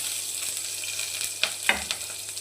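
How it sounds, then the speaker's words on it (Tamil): Chopped onions fry in hot sesame oil after mustard seeds have popped, for a village-style mushroom curry, producing a steady close sizzle with a few sharp crackles and stirring clicks. "எண்ணெய் காஞ்ச உடனே ரெண்டு கடுகு கடுகு புரிஞ்ச உடனே கட் பண்ண வெங்காயம்"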